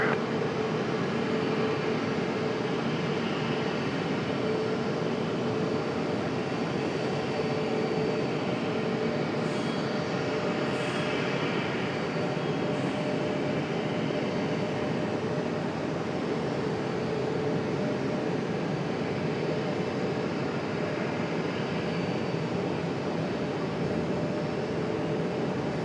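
An American Airlines airliner takes off from runway 23 right at Raleigh-Durham airport, heard as a continuous broad jet roar that holds steady and strong for the whole stretch, distant but dominant, with no voices.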